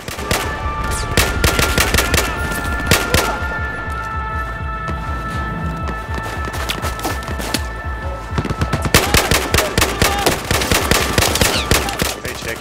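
Sustained automatic gunfire in the video game Battlefield 4 during a campaign mission in the Kunlun Mountains, loud rapid bursts of shots cracking in quick succession with short pauses, dense and close throughout.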